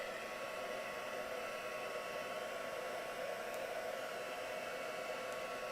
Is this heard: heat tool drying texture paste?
yes